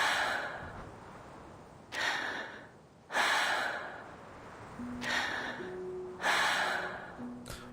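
Repeated deep breaths from a character in the video game Reverse 1999, several long inhales and sighing exhales in a slow rhythm, close and fairly loud, with faint musical tones underneath.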